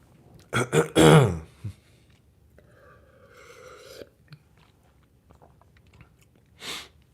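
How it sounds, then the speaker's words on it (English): A man clears his throat loudly in a few rough bursts up close, followed by quieter rasping and one last short clearing. "So let me clear my throat."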